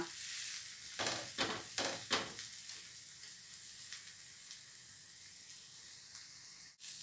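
A tomato omelette sizzling in an oiled pan just after being flipped, with a few scraping spatula strokes early on, then a steady quieter fry with no talking.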